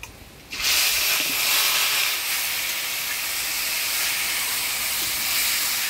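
Dried chilies and black cumin hit hot oil for tempering a taro-stem curry, giving a sudden loud sizzle and hiss that starts after a half-second pause and then holds steady, close by.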